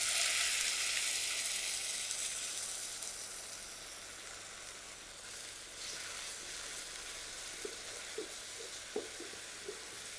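Ground spices (chili, coriander and roasted cumin) sizzle loudly in a pan after a little water is added, a bright hiss that eases into a steadier fry with a few utensil clicks near the end.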